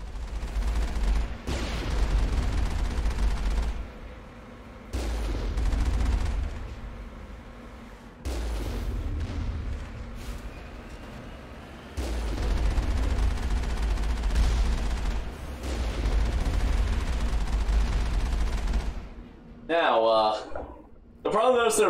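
Turret gunfire from the Mass Effect video game thumps in heavy, repeated bursts against the Mako vehicle, booming blasts coming and going between short gaps, with someone talking over much of it.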